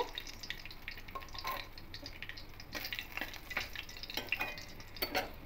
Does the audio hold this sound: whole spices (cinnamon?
yes